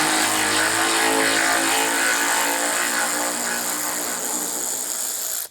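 Power tool or engine noise from work on a Dodge Charger crew cab restoration, a steady loud broadband whir running continuously for about five seconds before cutting off abruptly, with no talking.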